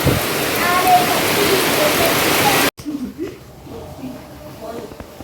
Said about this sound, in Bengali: এখন থেকে বৃষ্টি শুরু হয়েছে